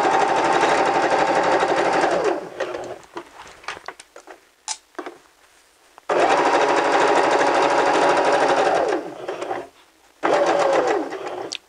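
A sewing machine stitches a garment seam toward the fabric edge in two long loud bursts of rapid mechanical whirring, separated by quieter pauses with faint handling, then a third burst begins at the end.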